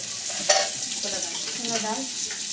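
Chana dal fries and sizzles in a pan while a metal spatula stirs and scrapes it, with a sharp clink early on and a steady, fairly quiet sizzle throughout.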